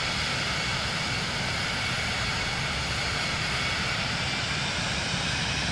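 Steady, loud aircraft engine drone during a landing approach in Microsoft Flight Simulator 2024, a broad continuous roar with no talk, holding constant throughout.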